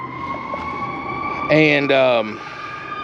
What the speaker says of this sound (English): I figure it's got an ambulance or fire truck going by.